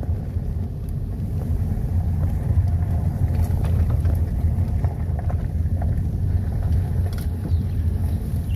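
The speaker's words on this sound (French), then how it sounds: "Ouais, comme ça on fait du 4x4." A raised 4x4 car driving off-road on a rainy day in the Gard, France, giving a continuous low engine rumble and tyre noise that stays close and steady throughout.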